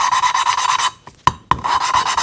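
A gritty, rhythmic rasping from a Bombardier Quest 500 ATV engine valve being lapped with grinding compound, broken by a short pause with a couple of sharp taps before the scraping resumes.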